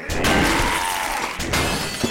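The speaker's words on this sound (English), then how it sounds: "Come on, break that door down." A door is smashed down in a video game: a loud, sustained crashing and splintering burst with a brief lull, then a second heavy crash, close and alone without talk.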